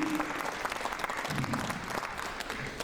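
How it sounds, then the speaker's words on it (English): An audience at a high school midwinter music concert gives a round of applause, a dense, steady wash of clapping filling the hall, with faint voices mixed in beneath it. "round of applause to all those administrators for all of your support"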